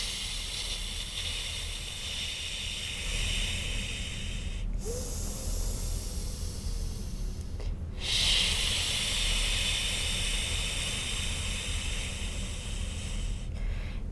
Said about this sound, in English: Just a couple more deep breaths here.